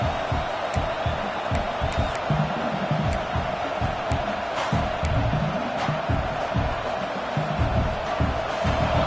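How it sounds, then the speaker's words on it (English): A large stadium crowd roars continuously at an LSU football game, a dense, steady wall of voices with occasional louder shouts rising out of it. "Listen to the crowd energy here in the early going."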